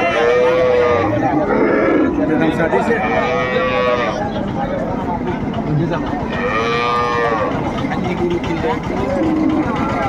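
Several loud, drawn-out cow moos close by, overlapping with people talking at a busy outdoor cattle market.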